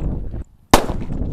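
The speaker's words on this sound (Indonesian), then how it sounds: "Selanjutnya kera raja yang kita nyalakan." A single sharp Kera Raja firecracker blast bangs loud and close after a brief hush, its crack followed by a rough rumbling tail amid outdoor background noise.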